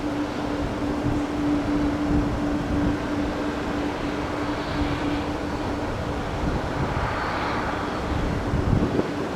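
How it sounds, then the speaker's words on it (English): A Copa Airlines jet airliner at Tampa airport gives off a steady, broad roar at moderate distance, continuous throughout with a faint tonal hum and no talking. "This is COPA's 394 to Panama City, Panama."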